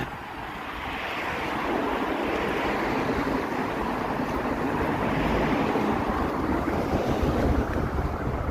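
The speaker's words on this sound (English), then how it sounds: "Yeah, the wind, once again." Strong wind buffets the microphone on a Toronto city street in the evening, a steady loud roar that rises slightly and holds without speech.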